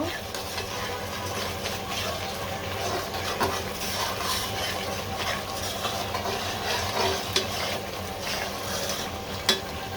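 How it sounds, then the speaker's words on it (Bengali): Rohu fish pieces sizzle and fry in spiced oil in a pan, a steady crackling hiss with occasional clinks, under faint background talk. "এখন আমি মাছগুলো দিয়ে দিব।"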